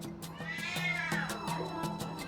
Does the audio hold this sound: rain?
no